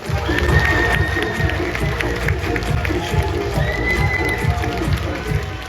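Audience applause and cheering at a school event with an MC, a busy crowd clapping and shouting with a rhythmic pounding underneath and voices mixed in.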